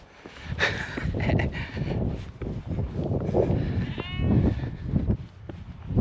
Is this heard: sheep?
yes